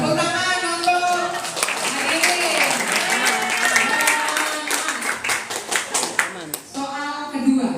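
Audience applause at a final round of a Qur'an quiz competition, dense clapping from a seated crowd with a voice speaking over it, the clapping thinning near the end.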